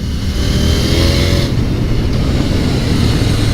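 A 2020 KTM Duke 890R motorcycle accelerates hard with a quick shifter, its loud steady engine roar filling the whole stretch, with a brief dip as a gear changes midway.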